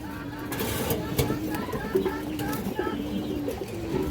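Female pigeons, including a Bagha khaki hen, coo in repeated low throaty phrases, steady and close, while someone talks over them throughout.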